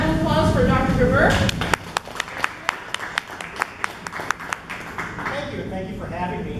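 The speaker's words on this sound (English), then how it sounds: "let's give a round of applause for Dr. Gerber" An audience at a science talk claps for the speaker: a short run of crisp, regularly spaced hand claps, with a voice talking just before and another starting just after.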